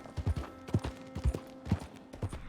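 Horse hooves clip-clop in a steady walking rhythm in a Western-style wild outdoor video game, close and clear with a faint mechanical hum underneath.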